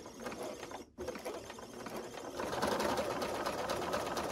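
A sewing machine stitches small quilt pieces, a steady close mechanical whir that briefly pauses and then runs on faster and louder.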